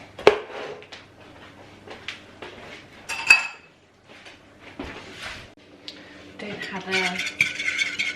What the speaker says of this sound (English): As I don't have the whisk on. I'm forking it.